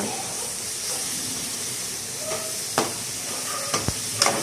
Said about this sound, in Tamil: காடையை சேர்த்து நல்லா கிளறி விடுங்க